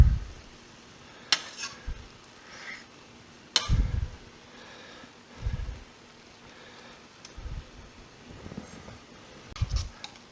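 Bagels fry in a pan for a minute a side and get flipped, giving soft, patchy sizzling with intermittent low thumps and brief sharp clatters from handling, close by and with no talking.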